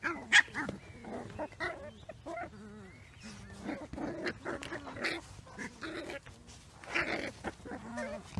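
Puppies bark in short, sharp yips and bow-wows scattered through the clip, fairly close, mixed with people talking nearby.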